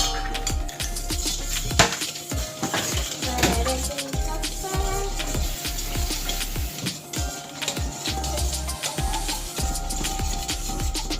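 Three eggs being whisked in a pan for bread pudding, a steady scraping and clicking of the whisk against the pan, close and fairly loud, running continuously without speech.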